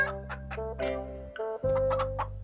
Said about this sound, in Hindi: ये तो चूजा नहीं बल्कि उसकी माँ लग रही है।